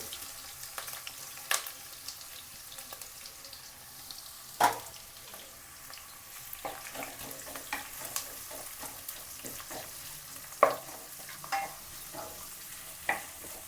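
Onions fry in oil for a potato palya while being stirred, a soft continuous sizzle broken by sharp scrapes and clinks of the spoon against the pan at irregular intervals.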